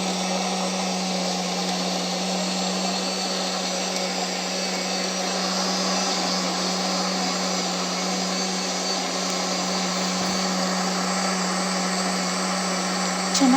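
A mixer grinder runs continuously, grinding sambar masala with coriander leaves and a little water, a loud steady motor whine with an even hum throughout.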